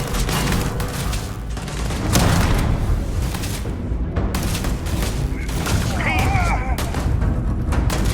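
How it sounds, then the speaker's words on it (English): Gunfire in the space game Starfield, repeated booming shots and thuds in an ongoing firefight with other effects layered in, voices speaking in between. "Someone's shooting at us."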